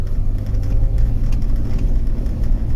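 Mercedes G-Wagen engine laboring steadily up a steep hill below 20 km/h, a constant deep low rumble that holds loud and close throughout with slight swells as the throttle opens a little more.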